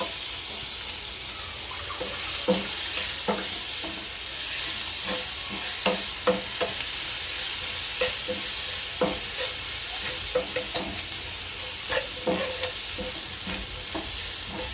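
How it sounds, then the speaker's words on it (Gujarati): Garlic sizzles in hot oil for a dahi tadka, a steady close frying hiss under repeated light taps and scrapes of a spoon stirring in the pan. "હવે લસણ નાખશું."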